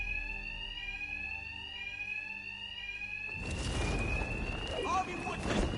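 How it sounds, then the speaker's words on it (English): A steady, shrill fire alarm rings in Batman: Arkham Knight. It is loud and continuous at first, then a burst of combat noise and scuffling swells over it. "Two-Face's thugs won't hear me over the alarm."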